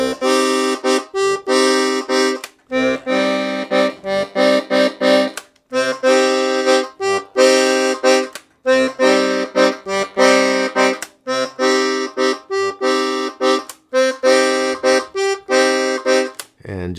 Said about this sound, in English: In our bass, we have 5 reeds, 120 basses, and they sound like this.